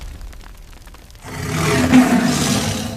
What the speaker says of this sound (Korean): 하늘이 찢어지는 듯한 포효가 모든 소리를 집어삼켰습니다.